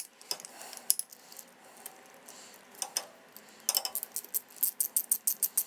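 Small screws being driven into a Honda Monkey exhaust cap with a Yoshimura RS3 system: faint metallic clicks and scrapes, then a quick regular ratcheting series of light ticks, close and quiet.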